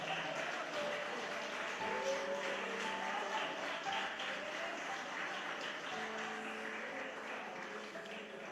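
A church congregation claps steadily through a worship service, a dense, sustained wash of applause with faint tones and voices beneath it.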